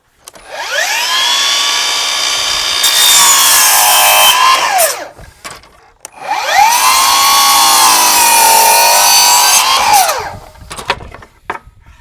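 Two long passes of a power saw slicing through wooden crown molding pieces, each cut a steady high whine lasting several seconds with a brief pause between, loud and close.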